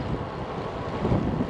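Strong wind buffets the microphone beside a canal lined with thin reeds during a bike ride, a steady loud rumbling roar that swells slightly near the end, with no voices.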